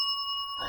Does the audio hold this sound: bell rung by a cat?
yes